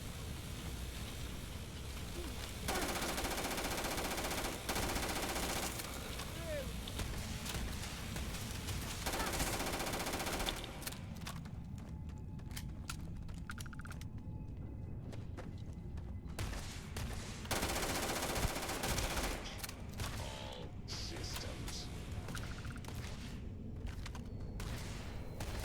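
A handgun fires in the Starfield video game amid a dense, continuous barrage of rapid gunshots, loud and sustained with brief lulls, and no talk over it.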